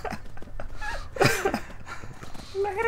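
Horse hooves galloping in Skyrim, with rhythmic clip-clop beats over busy game sound and a brief whinny-like burst midway.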